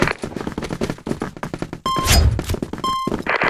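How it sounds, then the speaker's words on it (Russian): A smoke grenade is thrown and pops in the CrossFire shooter game on the Praha map in Spy Mode, a sharp thunk and hiss followed by metallic dings, with rapid gunfire clatter before it. "Граната дымовая. Пошла. Дымовая завеса."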